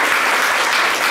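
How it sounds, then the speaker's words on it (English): Audience applause after a live music set at the Chicago Athletic Association, a brief, loud, even burst of many hands clapping together with no speech over it. "That's our round of applause for Ted."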